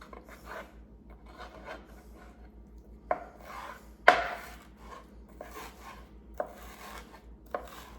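A knife cuts chicken fillet into chunks on a board, making several close, crisp chops at uneven intervals. Softer scraping sounds fill the gaps in a quiet kitchen.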